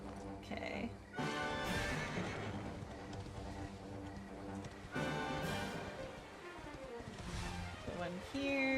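A horse in the Dragon Quest XI role-playing game whinnies loudly over continuous game music, with a second neigh later and hoof clip-clop on the move.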